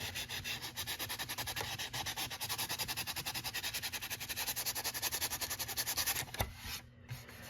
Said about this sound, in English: Now you just lightly sand off the edge to get the edges that aren't bonded down.